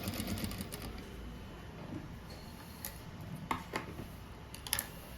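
A new sewing machine backstitches on a simple rug, faint and quiet, with scattered small clicks and taps over a low mechanical hum.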